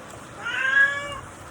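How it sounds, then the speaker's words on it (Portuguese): A house cat gives a single drawn-out meow indoors, moderately faint and rising then falling, alone over a quiet background. "esse é o gato da minha mãe miando"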